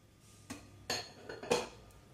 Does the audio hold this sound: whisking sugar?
yes